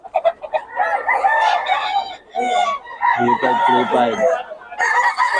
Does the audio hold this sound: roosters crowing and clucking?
yes